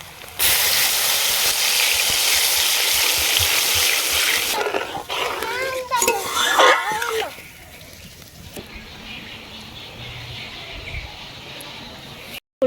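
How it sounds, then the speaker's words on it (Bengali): Water poured into a pan of fully fried spiced masala for a vegetarian doi begun curry, a loud steady hiss and sizzle that sputters and bubbles before settling to a quieter simmer. "এবার জল দিয়ে দিচ্ছি।"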